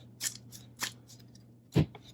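A deck of Yu-Gi-Oh cards is shuffled by hand during a game at a table, giving three short riffling bursts spaced apart with a faint steady hum underneath.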